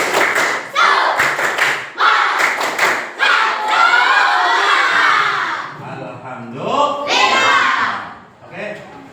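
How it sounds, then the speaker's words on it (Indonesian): Classroom of children doing a rhythmic spirit-clap chant: sharp patterned claps alternating with loud group shouting and chanting, voices rising and falling in a lively call-and-response. "Tepuk semangat."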